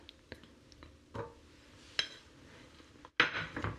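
A whisk works butter into hot pastry cream in a metal pot, making scattered close clinks and scrapes against the pot, ending in a louder, rapid burst of metallic clattering.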